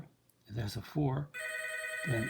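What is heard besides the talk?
telephone ringing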